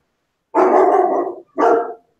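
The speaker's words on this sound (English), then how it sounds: "Are those your dogs, Walt?" Dogs bark loudly and close by in two rough, drawn-out bursts separated by a brief pause, with no other sound around them.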